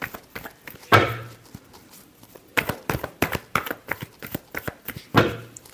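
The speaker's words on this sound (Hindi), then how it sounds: "last shuffle" Tarot cards shuffled by hand in bursts of crisp riffling and soft slaps, with two louder bridge-like cascades and quick patter between, close and fairly quiet, no talking.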